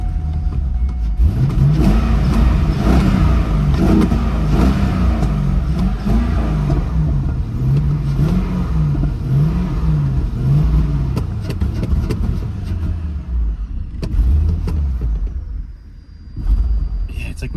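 A high-mileage C5 Corvette with a six-speed, a damaged car bound for a rebuilt title, runs at a rough idle and is revved up and down in waves. The engine stays loud and close throughout, and someone talks over it.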